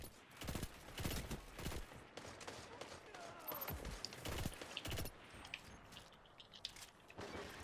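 Gunfire in a shooter video game: sharp shots in irregular bursts and single cracks, fairly quiet, spaced through several seconds with brief lulls between volleys.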